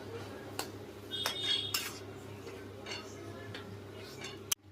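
A spoon stirring crushed palm jaggery into semai boiled in milk, with light clinks and taps against the pot at irregular intervals over a low steady hum, and a sharp knock near the end.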